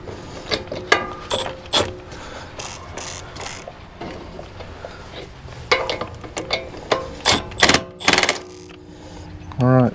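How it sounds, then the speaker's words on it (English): A Milwaukee M12 Fuel right angle impact wrench set to snug fires in several short bursts of mechanical rattling, close and fairly loud, with people talking in between the bursts. "stick it on Milwaukee right angle impact, set it"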